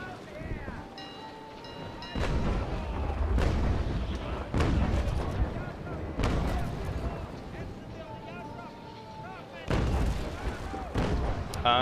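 Naval Action sailing ships firing cannon broadsides, a series of loud booming volleys spaced a couple of seconds apart over wind and sea noise, with some faint chatter in the background.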